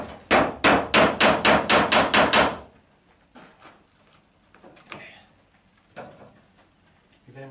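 About nine steady hammer blows drive a nail while a roof vent unit is fixed in place among roof tiles, loud and close, followed by quieter scattered knocks and handling clatter.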